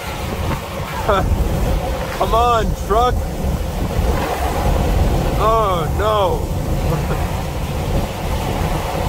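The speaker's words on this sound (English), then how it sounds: "It's windy and raining" Gusty wind roars across the microphone with a steady wash of rain beneath, beside a GP Transco Cascadia truck, while a person speaks briefly over the blustery noise.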